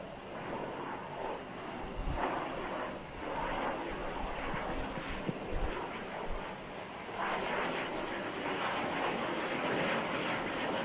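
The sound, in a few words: Chinese fighter jets flying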